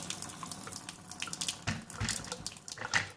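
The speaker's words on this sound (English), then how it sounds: "I'm just going to pour some hot water into it to warm it up." Hot water poured into the portafilter of a DeLonghi espresso machine, a faint close trickle and splash that swells and ebbs for a few seconds with small clinks, no talk.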